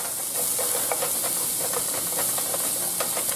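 Onions and brown bits of rabbit sizzling in olive oil, a dense steady hiss with faint repeated crackles, close and continuous, no voices.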